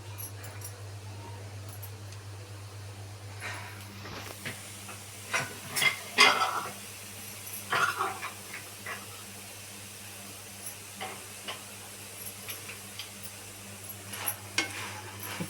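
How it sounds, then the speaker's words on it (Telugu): Meal maker soy chunks fry in a hot pan with a low steady sizzle, broken by scraping stir strokes that rise in irregular bursts over a faint constant hum. "ఈ మిల్ మేకర్ పచ్చితనం పోవడానికే నేను ఫ్రై చేస్తున్నానండి."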